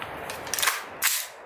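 A 10.5-inch rifle fires supersonic 5.56 ammunition through a Knight's Armament suppressor, giving two sharp, close cracks about half a second apart, each a quick burst with a short tail and no talking over it.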